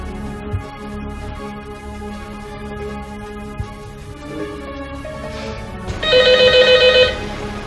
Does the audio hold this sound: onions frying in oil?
no